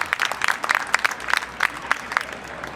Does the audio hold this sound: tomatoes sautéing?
no